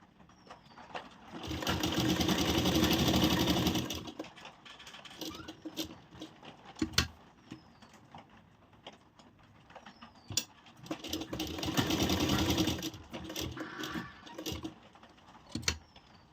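A sewing machine stitches blouse fabric in two steady runs of about two seconds each, separated by quieter handling clicks and brief mechanical taps, close and fairly loud.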